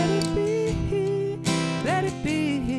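Acoustic guitar strums the chorus chords of a song, close and loud, with a voice singing along over the rhythmic strums.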